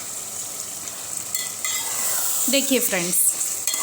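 Masala for keema sizzles in a pan over a full flame, a steady close frying hiss with stirring clinks, and someone speaks briefly over it.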